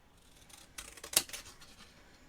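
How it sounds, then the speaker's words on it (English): Scissors snip through a paper card stencil for an autumn birthday card, a few quiet close cuts rising to one sharper snip in the middle. "I'm going to use my scissors here just to cut out"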